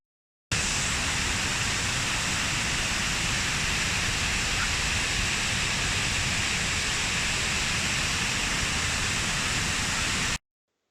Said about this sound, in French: voici, hein, les fameuses cascades dont voulais vous parler